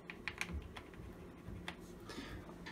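Typing on a Drevo Gramr 84-key mechanical keyboard with Outemu blue switches: quiet, uneven bursts of sharp clicky keystrokes, close up and alone.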